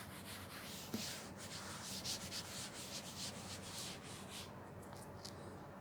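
Soft, faint rubbing as writing is erased from a board during a maths lesson, a steady scratchy swishing with a few light knocks, alone and quiet.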